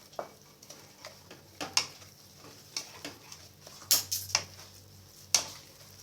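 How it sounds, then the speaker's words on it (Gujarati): A spoon stirs a cup of semolina with cardamom powder in a pan over medium heat for gulab jamun, making irregular light scrapes and taps against the metal over a faint background hiss. "હવે એક કપ જેટલો સોજીર ઉમેરીશું ગેસ મીડિયમ કરી દઈશું અને આને મિક્સ કરીશું"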